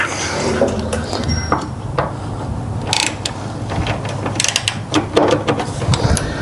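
A ratchet fitted with a 10mm socket clicks in short, close bursts while loosening lightly painted, barely tight bolts on a 2024 Ford Bronco Outer Banks, with metallic taps over a steady background hiss.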